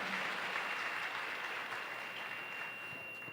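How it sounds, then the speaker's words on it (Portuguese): Sustained crowd applause for a bishop at a church gathering, a dense steady clapping that holds throughout and eases slightly toward the end. "Uma salva de palmas que chega até o nosso bispo e a nossa oração."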